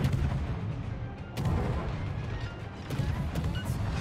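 Torpedoes striking an enemy ship in a naval battle game, heard as heavy rumbling explosions that swell and repeat at close range over continuous booming gunfire.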